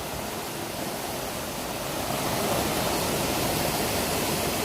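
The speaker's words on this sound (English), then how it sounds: "we're in Coalbrookdale and we're down by the watercourse" A brook flowing by Upper Furnace Pool in Coalbrookdale, heard as a loud, steady broadband rush of running water that continues without a break and with no voices over it.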